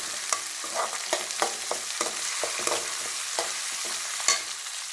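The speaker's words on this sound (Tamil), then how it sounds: "இதையும் போட்டு நல்லா வதக்கணும்." Onion and finely ground tomato sauté in hot oil, with a constant close sizzle and repeated scraping taps of a spoon stirring the pan, without talk.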